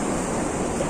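Water waves washing in, a continuous broadband wash of surf with wind rushing across the microphone, loud and close without any voices.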